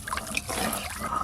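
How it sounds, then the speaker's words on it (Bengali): Water pours into a pot of hilsa curry on a clay village stove, making a brief, close splashing gush. "এবার পরিমাণ মতো জল দেব"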